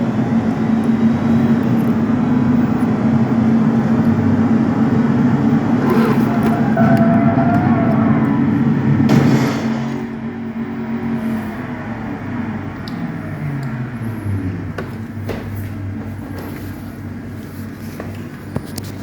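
A car in a racing video game drones loudly during a test drive, its engine pitch shifting, then dropping to a lower, steadier hum partway through; no voices.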